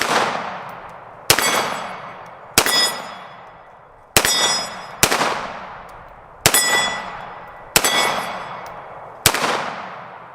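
A Girsan Regard MC pistol firing steel case ammunition: seven loud, sharp shots at irregular intervals, each with a ringing metallic crack and a long decaying echo, with no talking.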